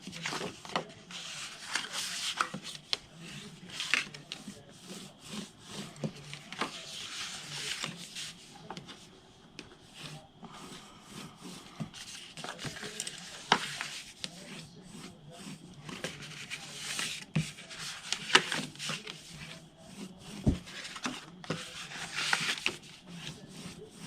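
Folded, scored cardstock for a Stampin' Up foldover box is burnished by hand, giving soft, steady rubbing and scraping strokes that repeat quietly and close up, with no talk over them.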